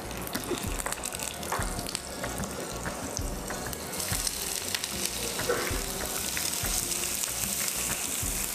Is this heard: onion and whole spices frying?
yes